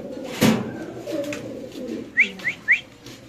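Fancy pigeons coo in a short, low burst up close, followed by a soft murmur and then three quick, higher chirps near the end, with no talk.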